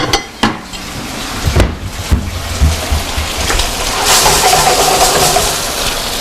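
A dish is pulled out and handled in a home kitchen, a few sharp clinks and knocks of crockery near the start, followed by a rising hiss from the cooking pan.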